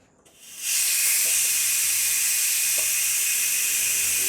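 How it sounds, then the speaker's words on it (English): An Instant Pot electric pressure cooker venting steam after cooking winter melon soup with pork ribs; a loud continuous hiss bursts in after a brief quiet start and holds steady and close. "So now we're going to release the air pressure."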